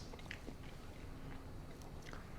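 Close, soft chewing of a bite of NY strip steak, a steady wet mastication with faint crunchy bites, alone with no talk.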